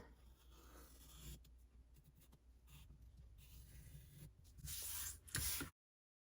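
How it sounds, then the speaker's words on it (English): A pencil traces a heart shape onto paper-backed fusible web, giving soft, close scratchy strokes in irregular bursts with brief pauses, growing louder and rougher near the end. "I'm just going to use a pencil and trace this"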